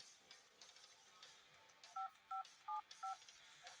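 Four short, clear telephone keypad tones dialed in quick succession over faint background noise.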